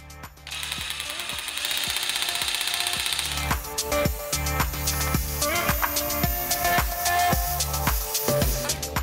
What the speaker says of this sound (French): Alors vous avez vu que ça se perce très bien, ça s'effrite en surface